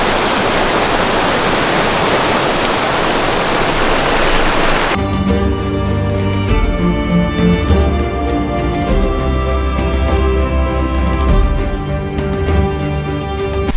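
A waterfall in Rocky Mountain National Park roars with steady broadband rushing for about five seconds before loud music takes over and buries the water.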